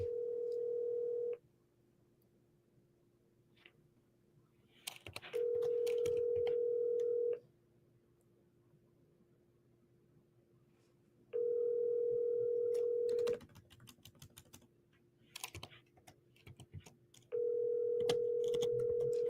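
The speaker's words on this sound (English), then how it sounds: "Are you triple dialing, Tez?" Telephone tones from a call: a steady dial tone sounds in long bursts that repeat about every six seconds, and between them come scattered short clicks and dialing beeps.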